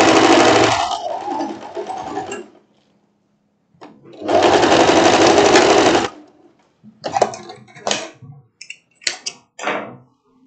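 A sewing machine stitches the shoulder seam of a floral wrap dress in loud, steady bursts, stopping and restarting, followed by softer clicks and handling noises.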